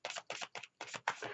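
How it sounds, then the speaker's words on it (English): Tarot cards shuffled by hand in quick, papery bursts, five riffling pulses with short gaps between them, close and fairly quiet, no voices. "I'm going to shuffle while we do this."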